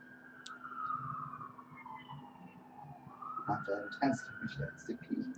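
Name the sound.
siren of a fire ambulance passing by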